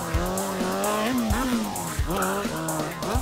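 A motorcycle doing stunt riding revs hard in rising and falling surges, with tire squeal and skidding, loud and close throughout.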